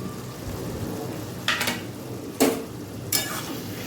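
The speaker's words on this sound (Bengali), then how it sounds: "এবারে দিয়ে দেবো এর মধ্যে আমি ভেজে রাখা চিংড়ি মাছগুলো" Fried prawns dropped into bottle gourd cooking in a pan, with a steady low sizzle and three sharp bursts of stirring and scraping spaced about a second apart, no one talking.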